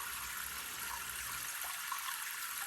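Water flows steadily from a Chinese diesel RV water heater, filled from a garden hose and bench tested, into a nearly full bucket, a continuous hissing gush with no talking.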